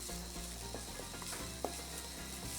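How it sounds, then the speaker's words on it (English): Onion and garlic sauté in extra virgin olive oil, giving a quiet, steady sizzle with a few soft clicks of stirring, heard alone at low level. "To that I'm going to add 1 large clove of garlic and saute that for 2 minutes."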